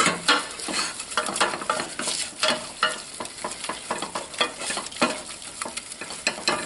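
Flour and fat being stirred into a roux in a pan on the stove for creamed spinach, with a steady sizzle and frequent scraping strokes of the spoon, close and continuous.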